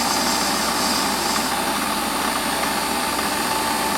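A Warco metal lathe runs steadily while a tiny boring bar cuts a bore about 6.5 mm deep to 10 mm diameter, giving a constant dense machine hum and hiss, close and unbroken throughout.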